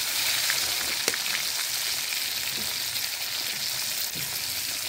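Potatoes added to hot oil with fried tempering spices, peas and tomato hiss in a loud, steady sizzle that continues evenly for the whole stretch, close up, with no talking.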